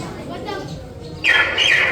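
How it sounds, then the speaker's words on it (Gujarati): A common myna gives a loud, harsh chattering call, following a moment of softer background noise. "કાબર આપણા ઘરે મેના કહીએ ને, કાબર એનો અવાજ છે."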